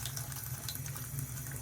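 Thin trickle of water from an old kitchen sink faucet with barely any flow, a faint steady hiss and patter running continuously and fairly quiet, with no talking.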